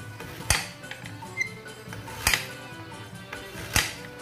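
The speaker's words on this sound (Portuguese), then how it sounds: "Vou começar aqui cortando meu gengibre." Ginger being chopped with a knife on a cutting board for quentão, a Brazilian festa junina drink: three sharp, separate knocks spaced about 1.5 seconds apart, close by, with faint kitchen background between them.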